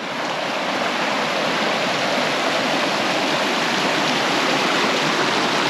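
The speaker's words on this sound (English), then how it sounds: "That's too much water flow." Spring water welling up out of the ground through grass, a steady, close rushing flow like a small stream that holds at an even loudness throughout with no pauses.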